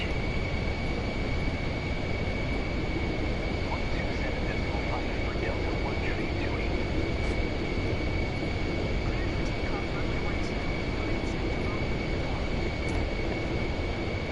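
A Pilatus PC-24 business jet in Microsoft Flight Simulator 2024 on PS5: a steady, loud turbine whine and broadband rumble, with a fixed high tone holding throughout and faint speech underneath.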